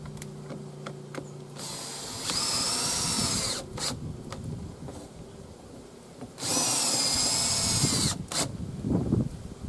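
A power drill drives screws in two whirring bursts, close and fairly loud, with light clicks and handling noises in the pauses between them.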